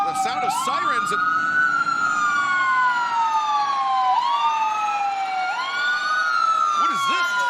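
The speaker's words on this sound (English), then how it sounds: "The sound of sirens" An ambulance siren wails loud and near at a wrestling event entrance, its tone sweeping up and down in long repeating cycles, with a voice briefly heard beneath it.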